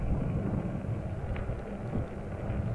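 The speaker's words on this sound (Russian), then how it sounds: "хоть и этот ветер, что тут есть, это ничего" Outdoor wind on a mild day in northwestern Latvia or southwestern Estonia, a steady rumbling buffet against the microphone, moderately loud and continuous throughout, with no voices.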